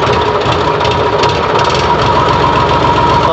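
An HMT 5022 tractor diesel engine runs loud and close after a self-starter start, a steady rough knocking rumble that continues without pause.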